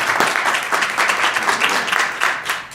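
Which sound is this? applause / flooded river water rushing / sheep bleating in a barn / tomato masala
applause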